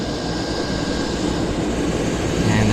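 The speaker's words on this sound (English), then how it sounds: "We got a Navajo taxiing in here to the south side" A Piper Navajo twin-engine aircraft taxis at Vancouver airport, its engines giving a steady, broad rumble with a faint tonal whine, growing slightly louder near the end; no voices.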